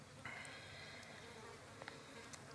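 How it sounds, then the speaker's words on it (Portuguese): A fly buzzes around fallen jackfruit on a sunny morning in a coffee plantation, a faint, close, wavering drone that comes and goes over quiet rural background. "Opa, tem uma mosca atrevida."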